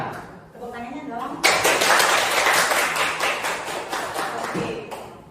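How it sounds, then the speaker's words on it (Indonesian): After a brief stretch of a voice, a room of teachers at a training session bursts into clapping, a loud, dense burst of many hands that gradually eases off before cutting out. "Tepuk tangannya dong."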